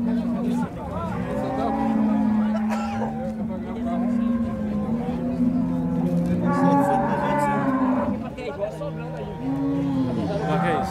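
Cattle at a livestock market in Capoeiras, Pernambuco, low repeated moos rising and falling close by, several calls in succession over a background of people talking.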